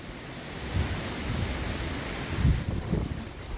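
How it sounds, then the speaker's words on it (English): A heavy wind gust from an approaching cold front in Cincinnati, Ohio, roars as loud, broad rushing noise buffeting the microphone, with a few stronger thumping surges. "Look at this heavy wind gust"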